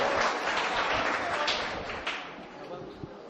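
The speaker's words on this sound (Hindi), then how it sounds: "जोरदार तालियां हो जाए।" Audience at a mushaira poetry gathering applauding a poet, a broad patter of clapping that gradually fades, with speech over it.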